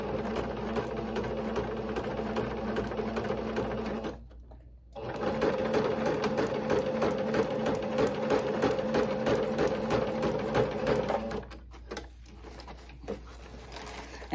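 A sewing machine stitches ruffle tutu socks, running steadily and loudly with a rapid mechanical whir, stopping briefly near the middle, then resuming, and finally running a short reverse backstitch.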